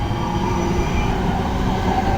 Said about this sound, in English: Little 323 just leaving Birmingham International with the 1517 local service to Birmingham New Street.